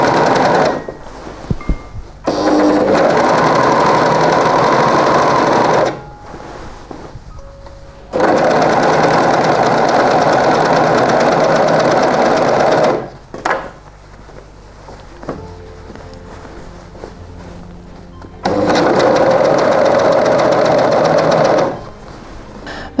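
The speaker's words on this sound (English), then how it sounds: "I now run everything together through the serger." A serger sewing machine finishing a shirt seam, running in three loud, steady whirring bursts of several seconds each with quieter pauses and fabric handling between them, close up and without talk.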